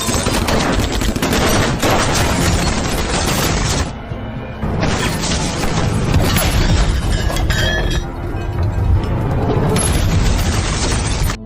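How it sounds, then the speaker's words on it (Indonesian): Intense shootout in an action film: dense, loud bursts of gunfire and machine-gun fusillades with booms and crashing impacts, almost continuous, with brief lulls. "Hingga baku tembak, dan baku hantam sengit,"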